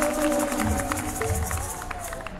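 A congregation at a church thanksgiving service applauds and cheers, with a dense wash of clapping and crowd noise that fades slightly over a couple of seconds.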